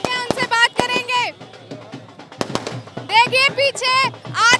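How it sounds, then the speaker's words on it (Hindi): Fireworks and firecrackers go off at a BJP election victory celebration after a Haridwar Lok Sabha win, with sharp, scattered pops and bangs behind loud, close talking. "देखिए पीछे आतिशबाजी हो रही है"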